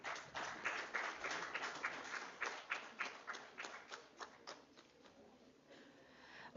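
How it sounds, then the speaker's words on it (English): Audience applause at an international physical education and sports science conference, a brief ragged burst of clapping that thins out to a few last claps, followed by a sudden loud knock near the end. "A round of applause, please."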